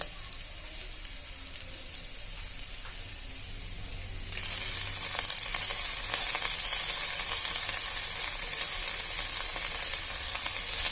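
Whole washed aloe vera flowers go into a hot frying pan, the steady background suddenly jumping into a loud, continuous sizzle that holds for the rest of the stretch.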